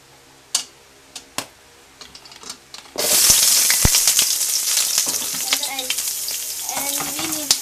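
After a few light clicks and taps, onions drop into a hot pan for pork sinigang and burst into a loud, steady sizzle, with stirring scrapes and crackles continuing close by.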